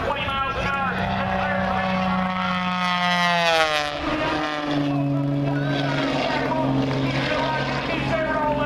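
An air show plane flies low under a ribbon at about 220 mph, its engine droning loud and steady with shifting pitch as it passes, while an announcer talks over it.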